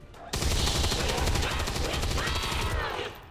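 Sustained automatic gunfire in the turn-based tactics game XCOM 2, a loud continuous rattle of rapid shots lasting nearly the whole stretch before cutting off.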